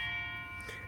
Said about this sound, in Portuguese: tocou o gongo.